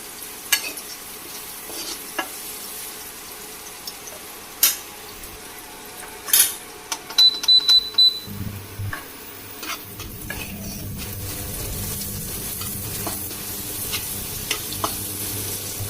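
Fried momos with salt and fresh cream are stirred in a pan. The oil sizzles faintly throughout, a utensil scrapes and clinks against the metal now and then, and a few louder knocks come through near the middle.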